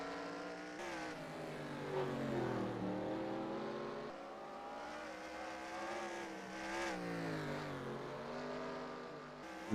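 Race car engine in a racing video game on the Chicago street course, a steady droning motor with rising and falling revs through gear changes and corners, loud and continuous with no voices.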